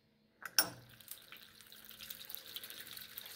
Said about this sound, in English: So we got some water coming out there